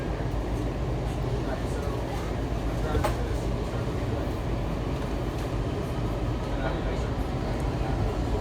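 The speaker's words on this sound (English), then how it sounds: "This is a red line train to Shady Grove." A Washington Metro Red Line subway train to Shady Grove rolls along with a steady, loud rumble and rail noise, heard from inside the car.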